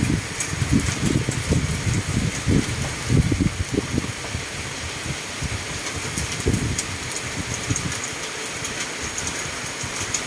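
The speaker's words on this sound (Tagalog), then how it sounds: "matindi pa rin ang ulan, mga katroops" Heavy rain pours down in a constant dense hiss, with a low rumbling underneath throughout.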